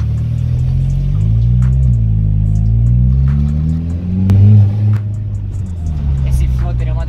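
A Volkswagen Jetta Turbo's engine rumbles and revs after a downshift, the pitch rising and falling in a loud continuous drone heard from inside the car, with people talking over it.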